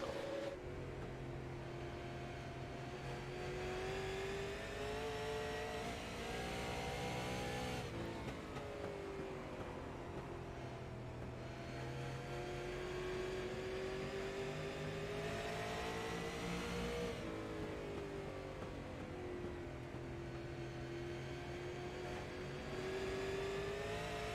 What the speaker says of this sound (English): have a listen to how hard he's trying to push this car around the track right now